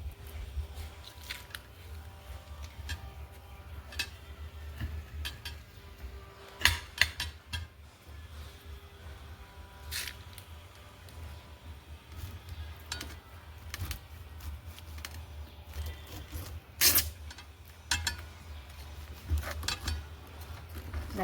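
A knife slicing through a juicy fresh pineapple on a farm, with scattered sharp crisp cuts and squishy crunches at irregular intervals over a low steady background hum.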